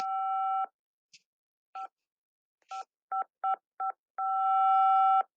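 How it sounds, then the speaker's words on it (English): Touch-tone phone DTMF tone for the number 5, a clean dual-pitched beep heard as a long tone, then a string of short evenly spaced presses, then another long sustained tone, alone with no talk. "So, on a touch tone phone, the sound created by pressing the number 5."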